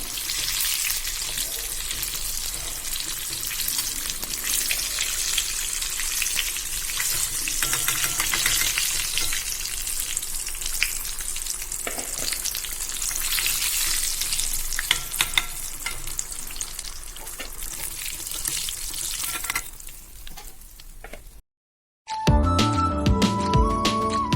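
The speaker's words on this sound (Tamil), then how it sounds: "இப்போ ஃபுல்லாக ஃப்ரை ஆகிடுச்சு ஸோ அந்த கொதித்து வரதெல்லாம் பாருங்கள் அடங்கிடுச்சு" Chicken pieces deep-frying in hot oil for homemade KFC-style crispy fried chicken, a loud steady crackling sizzle that runs close and continuous, then a short drop to silence and a brief clatter of handling at the end.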